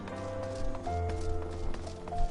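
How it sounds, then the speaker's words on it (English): Horse hooves clip-clop in a Final Fantasy XIV game scene, a brisk run of close hoofbeats over soft tonal background music. "Hey, horses."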